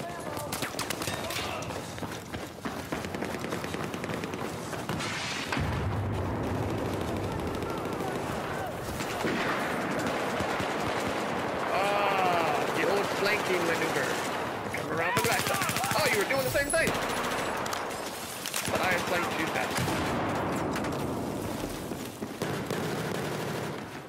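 Gunfire in the video game Battlefield 4, with bursts of rifle and machine-gun shots crackling through dense game noise over the whole stretch, with a voice talking at times.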